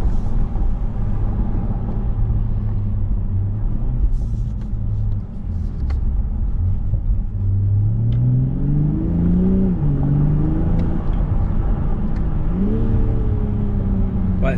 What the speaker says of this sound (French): Ouais, c'est très motorisé comme son. Ouais. On entend beaucoup le moteur.